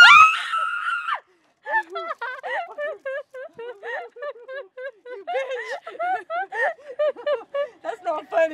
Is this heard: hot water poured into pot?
no